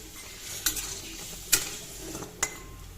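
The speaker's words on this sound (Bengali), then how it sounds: "গ্যাসের ফ্লেম একদম লো রেখে আরও আমি কিছুক্ষণ এইভাবে বড়াগুলোকে নাড়াচাড়া করে ভেজে নেব" Coriander leaf pakoras frying in oil over a low gas flame and being turned, with a steady soft sizzle broken by three sharp clinks of a utensil against the pan, with no one speaking.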